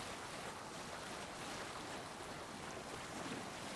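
A Viking longboat moves across the sea in Assassin's Creed Valhalla, with a steady, faint wash of waves and wind rushing continuously and no talking.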